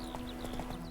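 Roach, the horse in The Witcher 3, clip-clops with quick rhythmic hoofbeats across about a second, moderately close over steady game ambience with a faint tonal hum.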